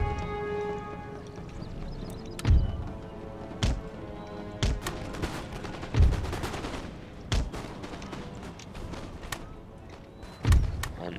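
Musket volleys crack out in a game battle from Empire Total War, a string of sharp separate reports spaced a second or two apart over a low murmur of battlefield noise, with no talk.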